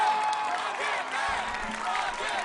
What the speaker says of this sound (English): Listen to the crowd screaming Rocket Man!